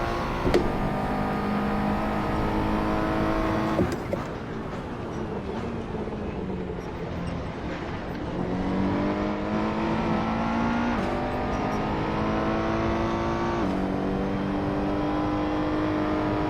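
A Nissan GT-R race car engine in the video game Gran Turismo revs hard and steadily, with pitch rising through the gears and a brief dip when shifting, sustained close and loud with no talking.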